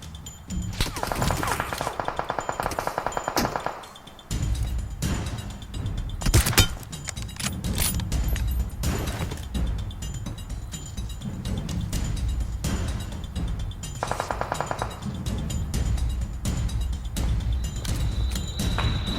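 Rapid automatic gunfire bursts in a PUBG Mobile match, sharp repeated cracks in tight strings with short pauses, loud and close over continuous game ambience and occasional thuds.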